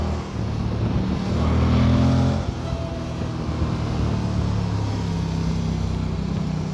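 A 2024 Moto Guzzi Stelvio motorcycle on the move, its engine droning steadily with a swell and dip in pitch as the rider shifts, accompanied by constant wind rush and no speech.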